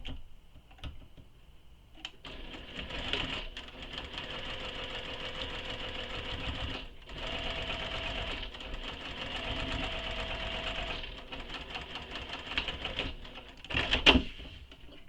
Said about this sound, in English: it's very important to do the top stitching and not skip this step